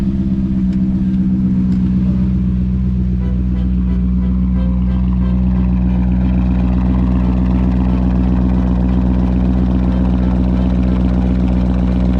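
An automotive lift motor raising a BMW in a German auto repair shop, a loud, steady mechanical hum with a deep drone that holds evenly throughout.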